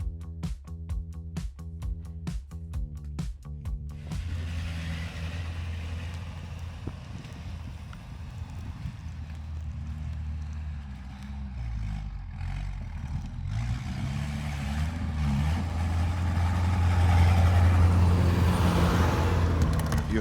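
A BRO ATV rolling off-road, first a series of sharp knocks, then a continuous engine drone that grows louder and rougher as the vehicle pushes on.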